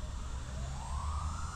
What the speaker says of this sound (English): Sorry about the ambulance. Again, I live by a busy road.